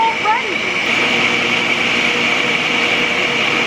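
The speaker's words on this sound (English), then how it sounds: "I think what I'm gonna do is try to blend it." A kitchen blender whirs continuously at close range, a steady high-pitched motor drone with a brief pitch shift at the start as it spins up, staying loud and even throughout.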